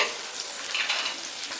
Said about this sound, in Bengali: এখন এই মশলাগুলোকে আমি খুব ভালো করে একটু কষিয়ে নিচ্ছি